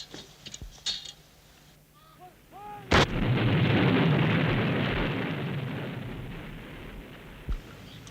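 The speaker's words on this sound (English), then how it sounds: "the guns were prepared for firing" Artillery guns firing during the 1971 India-Pakistan war in Bangladesh: a single sharp, loud blast followed by a long rumbling roar that slowly fades, with a fainter second report near the end.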